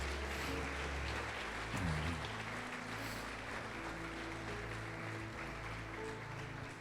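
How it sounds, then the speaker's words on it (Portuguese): A church congregation applauds during a sermon, producing a steady, fairly faint wash of clapping that lasts throughout, with a low musical hum and tones underneath. "Pode aplaudir o Senhor e glorificar a Deus."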